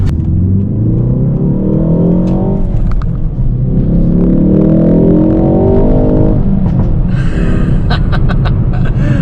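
A 2022 Ford Focus ST facelift with a detuned 2.3 litre EcoBoost engine revs loud and close, its note climbing through rising harmonics, dropping back, then climbing again, with sharp crackles near the end and no talk.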